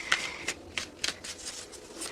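Tarot cards being shuffled by hand, a series of crisp riffling bursts at irregular intervals, close and fairly soft, with no talk.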